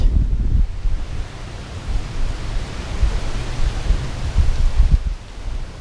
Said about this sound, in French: il y a un vent de merde